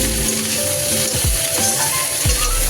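Vegetable stalks are stirred in a frying pan, with a loud, steady sizzle running throughout and a few scraping strokes of the spoon on the metal.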